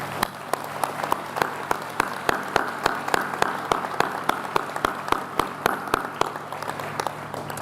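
Audience applause at a college commencement, steady sustained clapping from a large crowd with sharp individual claps standing out, continuing evenly throughout.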